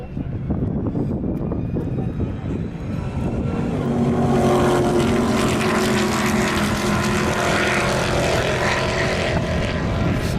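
A loud, continuous race car engine roar at a drag strip with a high whine rising through it, sustained and close, with no voices over it.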